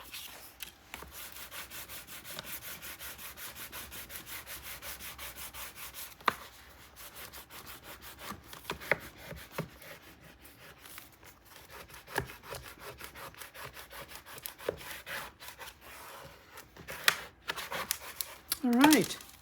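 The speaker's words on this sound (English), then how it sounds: "let's get in here and let's burnish" Paper being burnished on a page of a 9 x 9 scrapbook mini album, quiet repeated rubbing and scraping strokes at close range, with occasional soft breathing and brief sharper scuffs toward the end.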